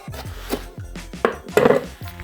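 Tomatoes are diced with a knife on a cutting board, a series of irregular wooden knocks and thuds, some sharper and louder, close up with no talking.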